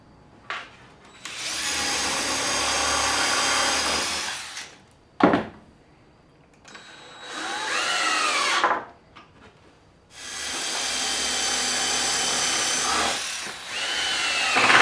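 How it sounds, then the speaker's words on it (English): A power drill drives screws into the wooden struts and frame sides of a side-mount Murphy bed, sounding in three sustained whirring bursts, each rising in pitch and separated by quiet gaps and short clicks, close up with no talking. "screw the struts to the frame sides. You're going to use 2 screws per strut per side."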